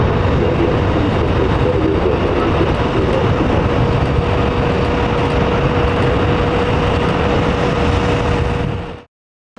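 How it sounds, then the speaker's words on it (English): An Edelweiss airliner taking off from Zurich Airport in a crosswind makes a loud, continuous roar of jet engines at full power. The roar holds steady for several seconds, then cuts off abruptly at the end. "As this Edelweiss aircraft began its takeoff from Zurich Airport"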